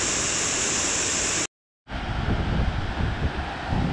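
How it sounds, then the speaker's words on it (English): Steady, loud broadband rush of water pouring into a cave below a river, heard alone with a brief cut to silence partway through before the roar resumes. "here we have the view of the water flowing into the cave"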